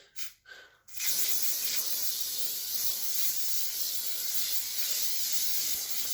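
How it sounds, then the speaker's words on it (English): Sennelier fixative sprayed from an aerosol can over a soft pastel painting, a continuous loud close hiss lasting several seconds after a few brief handling knocks. "I'm just going to give this a quick light coat."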